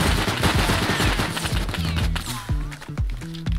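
Rapid video game gunfire during an eco raid, loud bursts of close automatic shots in quick succession, followed by a few heavier spaced single shots, with no talk over it.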